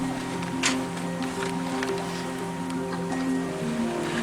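Ocean water washes steadily around a sailboat crossing the Gulf Stream toward Florida, a continuous broadband rush with faint splashes and a low hum underneath.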